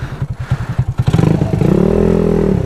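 A Honda Ruckus scooter engine putters close by, its uneven pulsing firing beats quickly settling into a steady, humming idle after starting.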